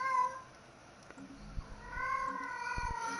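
A pet cat gives a short meow, then after a gap with a few soft low thumps lets out a longer, sustained meow, close to the listener.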